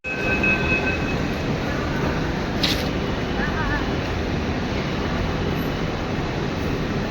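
A metro train runs with a steady broadband rumble and hiss from inside the carriage, continuous and fairly close, with a brief high squeal partway through.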